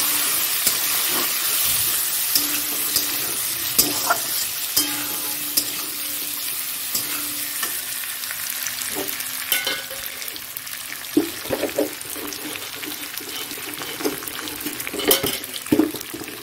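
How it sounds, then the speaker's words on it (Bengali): Potatoes fry in oil with onions and panch phoron for an egg curry, a continuous sizzling hiss marked by repeated spatula scrapes and occasional clanks against the pan, close and fairly loud. "পেঁয়াজটা ভাজা হয়ে গেছে, আলুটা দিয়ে দেবো।"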